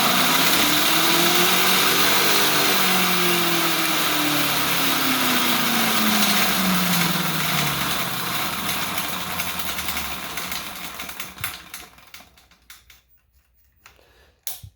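A rebuilt dirt bike running on a partly charged lead-acid battery, whining up and down in pitch as it accelerates sluggishly, loud and close, then sputtering and cutting out into clicks and silence near the end.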